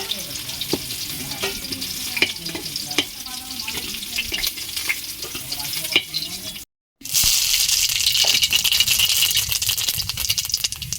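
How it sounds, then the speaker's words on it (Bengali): Fish sizzles and crackles in hot oil in a pan, a dense continuous frying hiss with scattered pops and stirring clatter, briefly cut off before resuming louder. "মাছটা একটু লাল লাল করে ভেজে নিলাম"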